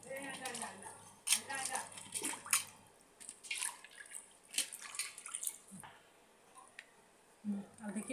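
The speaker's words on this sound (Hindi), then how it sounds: "अभी देखिए इसको हम धो के छान लेंगे छन्नी में।" Ridge gourd being rinsed and drained in a kitchen strainer, with irregular drips, splashes and trickles of water close by, broken by brief pauses and light handling noises.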